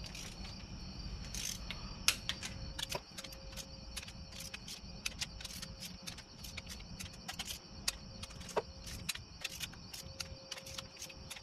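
A torque wrench tightens bolts on a Honda 1.7L engine, making quick, close, irregular ticking and clicking throughout with no talk.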